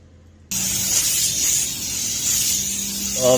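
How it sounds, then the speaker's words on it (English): After a brief quiet start, an aerosol can of brake cleaner sprays on a Lexus RX350's rear brakes in a loud, steady hiss at close range, continuing with slight fluctuations. "When you spray this down, you want to be in a well-ventilated area"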